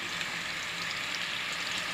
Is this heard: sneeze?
no